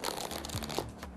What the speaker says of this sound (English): I shuffle it.